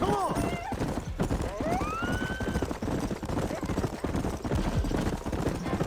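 A horse gallops in Red Dead Redemption, with rapid rhythmic hoofbeats close up, a brief neigh near the start and voices talking over the running.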